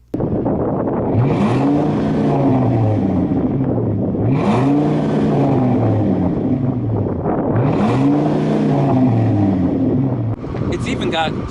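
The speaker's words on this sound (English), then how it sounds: "And this exhaust, it's massive and it sounds really," A Ford F250 V10 truck revs through a massive exhaust three times in succession, each rev rising and falling in pitch, loud and close with a deep rumbling idle between.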